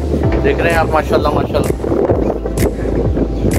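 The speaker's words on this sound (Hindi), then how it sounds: "इस वक्त ठंडी हवा चल रही है बहुत ज़बरदस्त" Cold wind gusts outdoors in Karachi under a gathering rain sky, buffeting the microphone with loud, rumbling bursts while someone talks over it.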